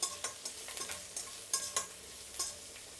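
Onion, crushed garlic and curry leaves fry in a pan, a quiet sizzle broken by repeated scraping stirs every fraction of a second, close and with no voices.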